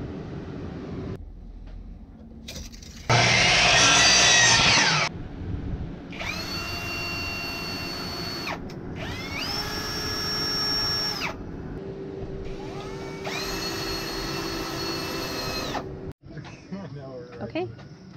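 Screws are driven into sheet metal in a van ceiling with a power drill, giving several whirring bursts that rise in pitch, each a few seconds long, close by, with a voice at times.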